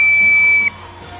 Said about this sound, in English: Go on my whistle!